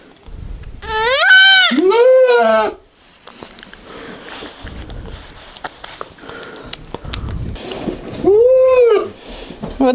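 Two loud bleats from a goat that has just given birth, one early and one near the end, with quieter rustling and sniffing between them, close by.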